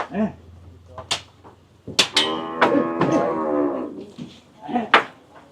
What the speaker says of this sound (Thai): เป็นวัวไล่ทุ่ง